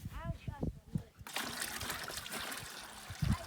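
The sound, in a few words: fresh water poured into a bucket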